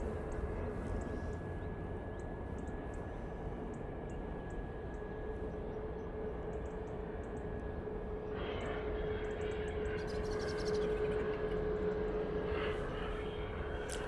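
Airbus A330 airliner at Manchester Airport, a steady, broad jet engine roar that holds throughout with a faint whine, and some brief clatter toward the end.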